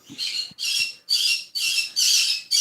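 Pet birds squawk indoors in a steady series of five or six loud, harsh, raspy bursts, each about half a second long with brief gaps between them. No voices are heard.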